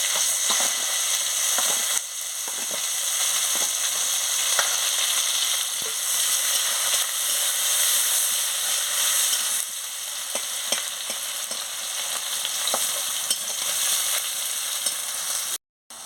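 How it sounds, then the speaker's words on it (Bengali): Chopped onion frying in hot oil with bay leaf, black cumin and chilli for a Bengali fish curry, a steady close sizzle throughout with occasional stirring clicks and scrapes. "পেঁয়াজটা ভালোভাবে ভাজা হয়ে গেছে"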